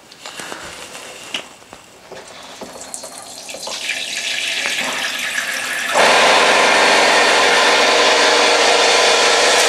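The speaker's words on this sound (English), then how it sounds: "And then when you're ready, you simply turn on the shower." Shower turned on to drain the pipe of a Floe 868 system in a static caravan or holiday home, starting with small knocks and trickles before a loud, steady rush of running water sets in and holds.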